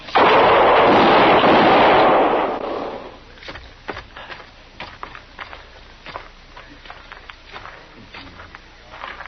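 A heavy gunshot blast from an old Gunsmoke Western radio drama bursts loud and close, then decays over a couple of seconds into a quiet stretch of faint thumps and small knocks.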